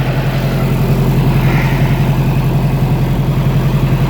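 2010 John Deere tractor engine idling steadily with a low, even rumbling chug, close and continuous with no talk over it.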